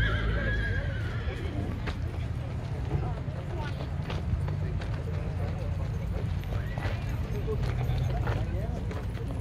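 A horse whinnies and its hooves clip-clop on the ground during a pilgrimage walk, close and continuous, with people talking nearby throughout.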